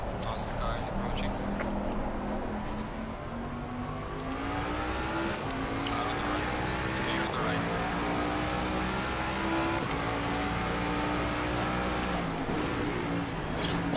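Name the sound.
race cars approaching and passing in a racing video game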